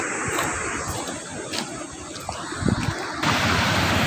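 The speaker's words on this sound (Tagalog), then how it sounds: "lalakas talaga yung agos ng mga tubig Grabe talaga. Sabagay, galing kasi sa dam" Strong rushing water current released from the Rizal dam in Nueva Ecija, a loud, steady churning roar with splashy surges, close and continuous.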